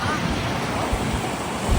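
Rough sea waves surge and roar against the shore at Gangeshwar near Somnath, a dense continuous wash of surf mixed with wind buffeting the microphone, loud and close.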